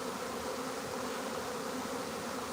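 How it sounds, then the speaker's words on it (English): A swarm of honey bees buzzes continuously and densely around a box on a farm, a steady close drone with no talk. "all the bees are starting to walk in there"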